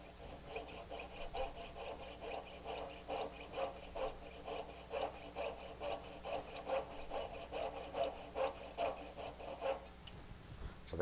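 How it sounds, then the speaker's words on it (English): Steady back-and-forth rasping of a jeweler's saw blade cutting a notch in a metal pivot screw, many quick even strokes in a close, continuous rhythm before stopping. "I'm going to take my jeweler saw blade, put it right in that little groove"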